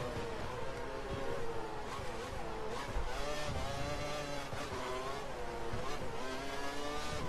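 A Formula One race car engine in F1 2012 at the Australian Grand Prix screams at high revs, rising and falling as the car shifts through gears, with a hint of tire squeal, continuous and steady, with no voices.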